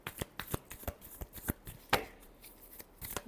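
Tarot cards being shuffled close up, a rapid series of soft riffling taps and flicks in an uneven rhythm, quiet and alone with no talking.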